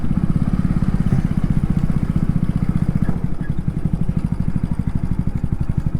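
A motorcycle engine runs steadily and close by during a cold winter solo ride, a dense low pulsing drone with a rapid even beat that stays loud throughout, with no talking.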